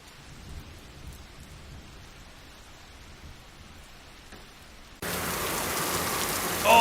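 Video game thunderstorm: quiet rumbling rain at first, then a sudden loud burst of heavy rain roaring up close for the final seconds.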